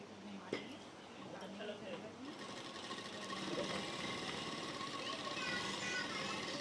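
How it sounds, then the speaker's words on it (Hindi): A sewing machine stitching the side seam of a salwar, running in a steady fast whirring rattle that builds and continues to the end, fairly quiet and close. "एकदम साइड में सिलाई लगानी है, दूसरी साइड भी लगा देती हूँ।"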